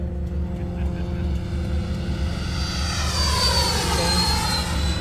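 A Freewing F-18 90mm radio-controlled jet makes a low landing-gear pass at a Hemet flying field, a loud, steady ducted-fan roar whose whine swells and bends in pitch as it sweeps past close by.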